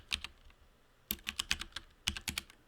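Close keyboard typing comes in three short bursts of crisp key clacks, separated by quiet gaps.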